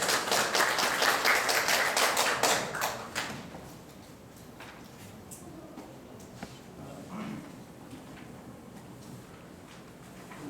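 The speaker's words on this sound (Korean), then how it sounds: "윤민우 교수님 박수로 맞이해 주십시오" An audience at an academic lecture applauds to welcome the lecturer: a few seconds of moderate clapping from a small room that fades out, followed by quiet room noise and faint shuffling.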